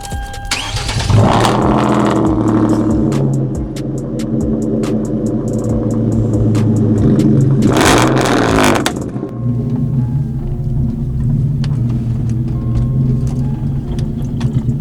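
A car engine cranks and catches, then runs loudly with a revving burst midway before settling into a steady idle close by.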